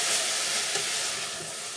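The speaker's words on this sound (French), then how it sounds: "Je mets les poireaux. On va un peu les faire cuire." Leeks cooking in a heated pan for a cream dish, producing a steady, dense hiss of sizzling that stays close and even throughout, with no talking.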